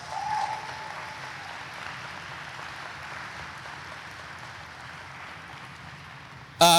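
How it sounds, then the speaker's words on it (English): An audience at a Space Camp Hall of Fame induction ceremony claps steadily, a dense wash of applause that holds throughout, ending with a sudden loud burst. "Give them another round of applause, please."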